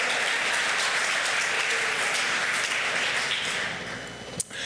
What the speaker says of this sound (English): Nice round of applause for GEM sponsors as well.